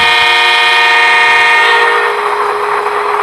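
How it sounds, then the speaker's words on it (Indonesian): A Roco Z21 DCC-controlled model locomotive sounds a loud, sustained two-tone horn, steady and close, with the tone shifting partway through and no talking over it. "lokomotif ini sebenarnya bunyi klaksonnya dua"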